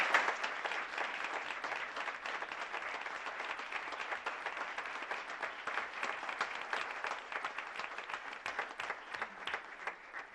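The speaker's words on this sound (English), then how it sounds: "Let's give her a big round of applause." Steady round of applause at a school board meeting honoring an award-winning student council sponsor, a moderate crowd clapping evenly and continuously at a middle distance, slightly muffled.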